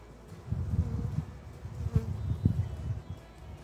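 Honeybees buzz in a low, fluctuating drone at an opened beehive during a frame inspection in October, a dense close hum that swells and dips with no voices.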